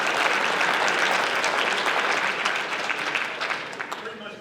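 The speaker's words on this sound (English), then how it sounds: "Let's give them a round of applause." An audience at a high school basketball awards ceremony applauds in a dense, loud wash of clapping that slowly thins and fades toward the end.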